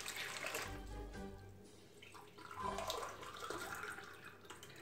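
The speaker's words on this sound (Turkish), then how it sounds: "2 su bardağı suyu öncelikle bir hamur yoğurma kabına alıyorum." Lukewarm water, two glasses' worth, poured into a dough kneading bowl, a soft splashing trickle that swells and fades over several seconds, faint and close with no talking.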